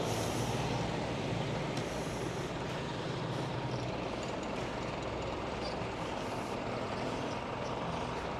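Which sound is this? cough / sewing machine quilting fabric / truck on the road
truck on the road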